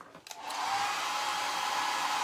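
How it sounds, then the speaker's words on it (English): A hair dryer starts up after a couple of clicks and settles into a loud, steady whooshing roar of blowing air. "I hit it with my hair dryer a little bit"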